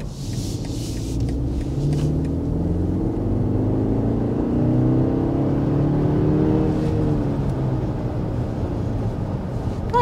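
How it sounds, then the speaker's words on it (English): A 2024 BMW X3 accelerates hard, its engine note rising as it revs through the gears, with a continuous loud rumble heard from inside the cabin and no talking. "let's go ahead and start with the hard acceleration"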